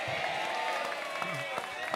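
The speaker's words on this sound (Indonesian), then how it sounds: "Kita beri tepuk tangan untuk Yai Mon ini." Audience applause at an Indonesian political campaign gathering, a steady faint wash of clapping from a crowd that continues for the whole stretch.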